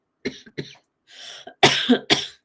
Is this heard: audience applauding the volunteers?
no